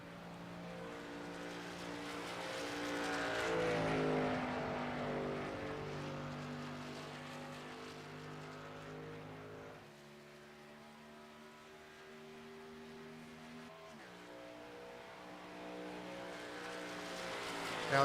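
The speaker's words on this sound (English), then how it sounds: "Now we see our first truck out on track." A race truck engine on track in the iRacing sim gives a sustained harmonic whine that climbs and falls through gear changes, fairly quiet and steady over many seconds with no speech.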